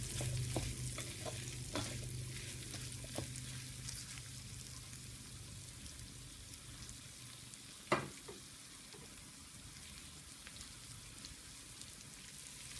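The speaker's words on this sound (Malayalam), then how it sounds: "ക്യാപ്സിക്കം വഴന്നു വന്നിട്ടുണ്ട് ഒന്ന് വാടിയാൽ മതി" Capsicum sautés in a pan with a soft, steady sizzle heard at a modest distance, broken by a few light taps and one sharp clink of a utensil partway through, with no voices.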